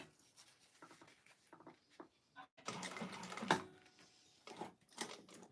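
A sewing machine stitches a clutch wallet, its busy mechanical whirring running in bursts of varying length with short pauses between, close and moderately loud, with a final pivot and back stitch at the seam.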